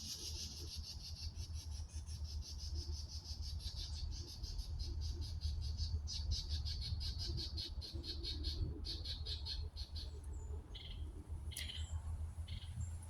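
Birds squawk steadily nearby outdoors over a constant bed of insect or cricket chirring, harsh calls repeating through the whole stretch with no voices.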